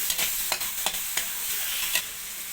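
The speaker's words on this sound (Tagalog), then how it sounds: "Guys, magigisa na po tayo. Yan, pinagsama-sama ko na yung sibuyas, bawang, kamatis, at saka chili." Onion, garlic, tomato and chili sauté in a pan for ginataang tilapia, a bright steady sizzle broken by several quick stirring scrapes about every third of a second, close and clear, with no speech.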